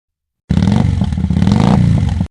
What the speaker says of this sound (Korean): 바이크에 모뎀 1개와 케이블 한 박스를 싣고 달려갔습니다.